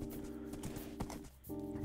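Horse hooves clip-clop in Minecraft, a steady run of soft, evenly spaced hoofbeats over a continuous background hum, close and moderately loud.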